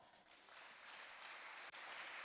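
Audience clapping fills a church congregation for the full length, a dense, steady wash of applause with a brief dip near the end.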